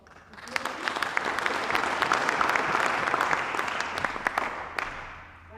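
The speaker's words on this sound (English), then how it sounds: "So can you give them a round of applause?" An audience at an agricultural extension symposium applauds its panelists, clapping swelling in over a second, holding steady with some sharp individual claps, then tapering off near the end.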